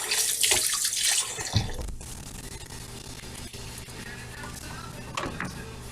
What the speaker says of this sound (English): gently rinse off the instruments.